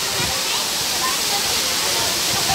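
A waterfall in a Hong Kong park pours in a loud, constant broadband rush, heard close by with no breaks.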